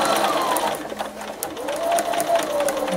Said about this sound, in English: I'm just going to sew them with white thread because this thread won't show